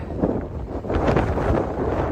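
Strong sustained gusts of about 30 to 40 mph buffet the microphone on a Montana mountain trail, a loud, continuous rumbling roar.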